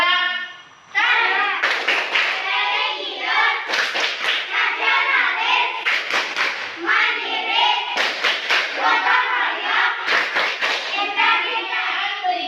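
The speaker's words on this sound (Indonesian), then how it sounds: "Kalau begitu kita lakukan tepuk karakter lagi biar kita semangat dalam belajar." A school class performs a rhythmic character clap (tepuk karakter), clapping in short patterned bursts with a pause after each group. Children chant along loudly and close between the claps.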